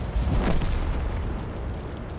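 A tank shell scores a direct hit on an M4 tank in a video game: a deep, heavy boom that rolls on as a broad rumbling roar and slowly fades, with no talking.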